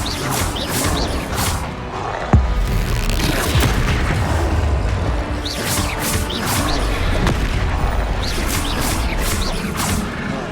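Confringo fire spells exploding in combat in the video game Hogwarts Legacy, a run of heavy booming blasts with whooshes and crashes over a dense rumbling battle bed, loud and busy throughout.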